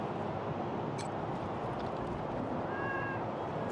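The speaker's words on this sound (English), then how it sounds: "Ooh, cat." A cat meows once, brief and fairly faint, in the Wasteland 3 video game, sitting over a steady wash of dense ambient game noise.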